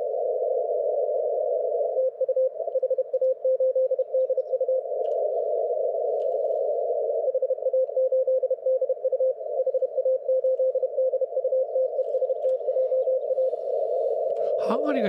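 Morse code CW signal from a Hungarian amateur radio station on the 28 MHz band, a steady keyed tone beeping in rapid dots and dashes throughout, fairly clear above a quiet background.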